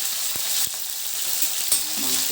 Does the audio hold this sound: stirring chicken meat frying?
yes